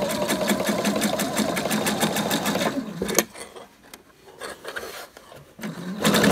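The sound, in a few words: sewing machine stitching over smock elastic bands on a skirt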